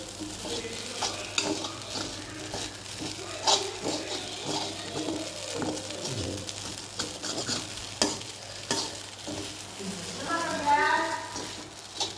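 Food in a pan is stirred and mixed after salt is added, with soft scraping and clinking strokes over a gentle sizzle, and a person talking at intervals.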